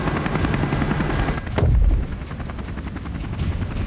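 Helicopter flying during a Teton mountain search and rescue operation near Jackson Hole, a loud steady rotor roar with rhythmic blade chop and a heavier thump midway.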